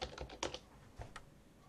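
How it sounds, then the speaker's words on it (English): A name is typed on a computer keyboard at a Linux login screen: a short run of light, quick key clicks up close, then a pause and a couple more taps, quiet and without talking. "when we are on light DM and I type my name"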